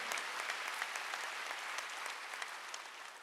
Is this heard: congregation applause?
yes